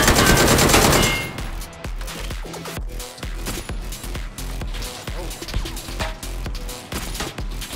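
Sniper rifle shots and other gunfire crack repeatedly in a video game match, loud and close, with dense rapid bursts over a steady backdrop of game sound.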